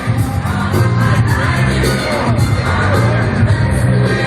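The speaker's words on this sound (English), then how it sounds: "There's a crowd building." A growing crowd of protesters gathered outdoors, a dense, loud wash of voices with scattered yells and a few sharp bangs, sustained without pause over a few seconds.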